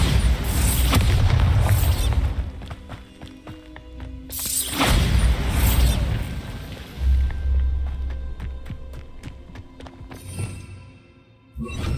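Bombarda spell blasts in the Hogwarts Legacy video game: heavy booming explosions with deep rumbling tails, followed by scattered debris-like clicks and thuds, loud and close.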